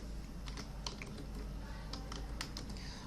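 Soft keyboard clatter of someone typing text on a computer, scattered quiet keystrokes in short irregular bursts over steady low background hum.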